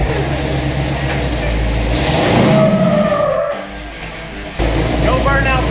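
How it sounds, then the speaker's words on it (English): A truck attempting a burnout, its front end skipping and hopping: loud engine roar with rough tyre scrubbing and squeal building mid-way, then a sudden drop and a second surge, with some voice mixed in. "No burnouts in this truck, it just skips the front."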